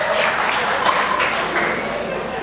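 Audience clapping in a church after the pulpit breaks, a dense, fairly loud patter of hands that holds steady throughout with a voice faintly mixed in.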